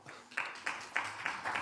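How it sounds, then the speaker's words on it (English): A few scattered hand claps from a small audience, about five sharp separate claps spaced unevenly across a short moment, with no talk. "Not a lot of claps."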